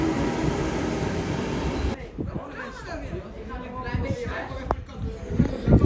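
A train rolls past on the tracks at a station, a loud broadband rumble that cuts off sharply after about two seconds, leaving quieter clatter, hiss and scattered station noise behind.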